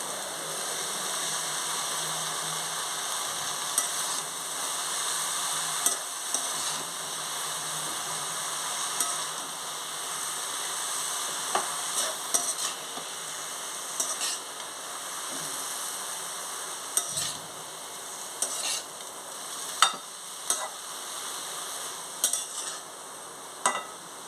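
Amaranth and spinach greens sizzle steadily in a hot pan while a spoon stirs them, with intermittent clinks and scrapes against the metal.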